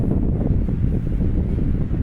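Strong wind in the Beskid mountains, carrying Saharan sand, buffets the microphone, a constant low rumbling roar with no pauses.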